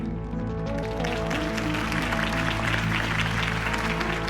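Dense crowd applause and cheering fill a scene in Batman: The Telltale Series, steady and loud throughout, over a low sustained musical hum.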